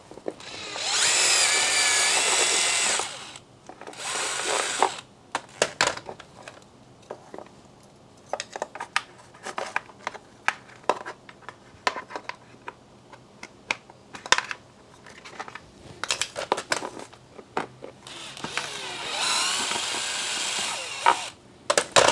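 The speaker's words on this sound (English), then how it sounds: "I'm going to take my step bit. I'm going to drill out." A power drill with a step bit whines in bursts, enlarging a hole for a connector while fitting LED cowl lights on a Honda Goldwing, short on-off pulses between longer runs, close and fairly loud.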